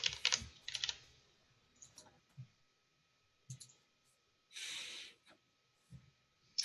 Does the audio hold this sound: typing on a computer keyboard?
yes